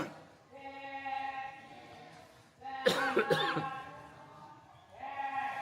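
Harsh coughing fits from a Buddhist monk irritated by lignite coal fumes while already recovering from a cold, a loud cluster of coughs in the middle between quieter stretches of his sustained voice.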